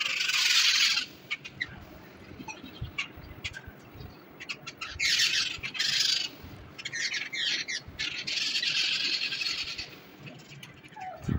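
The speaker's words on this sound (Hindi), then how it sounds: "सुबह सुबह बहुत अच्छा लगता है चिड़ियों की फ्रेश आवाज़ सुन के" Birds in a garden in the morning squawk and chirp in repeated harsh bursts, fairly close and loud, with scattered short calls and background noise between the louder stretches.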